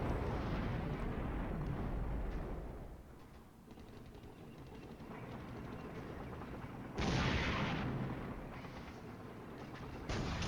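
Artillery and small-arms fire in the Cold War wargame Flashpoint Campaigns, a steady roar of distant rumbling blasts that dips briefly, then swells again with a harsh, loud burst near the end, no talk over it.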